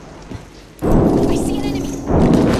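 A frag grenade detonates in Apex Legends with a sudden loud, broad blast about a second in, followed by a sustained rumbling roar and a second surge near the end.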